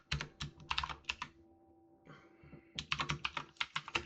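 Rapid clicking keystrokes on a computer keyboard while writing C# code, close and crisp, with a short pause midway before quick typing resumes.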